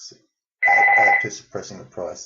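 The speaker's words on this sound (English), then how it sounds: "That was my phone." A telephone rings with a steady electronic tone that runs for about half a second, then gives way to someone talking close to the microphone.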